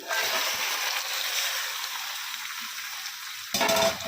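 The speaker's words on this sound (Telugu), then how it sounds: "వేసేసుకొని బాగా కలుపుకొని బాగా వేయించుకోవాలి" Marinated chicken frying in a pan with onion paste and curry leaves gives a steady, close hiss of sizzling oil, with a louder crackling burst near the end as it is stirred.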